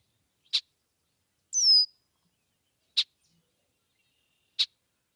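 Birds at an outdoor bird market give a few short, isolated chirps, three sharp clicks spaced apart and one brief rising whistle, clear and close against near silence.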